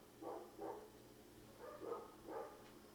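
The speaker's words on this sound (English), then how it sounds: "Something was scratching, and the dogs are going nuts" Dogs barking in the dark after something scratched outside, a few muffled barks in quick bursts, fairly distant and faint over a steady low hum.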